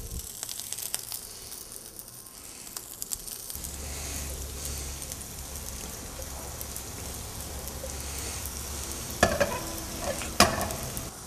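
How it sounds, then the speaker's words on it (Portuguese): Salami browning with black pepper in a frying pan, a steady close sizzle and frying hiss with stirring scrapes, a low hum running through most of it and a couple of sharper clatters near the end. "Depois de dourar bem esse salame"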